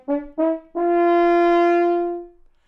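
A modern French horn plays two short tongued notes and then a long sustained open note that swells and fades away, with a clear, round, resonant tone heard close and alone.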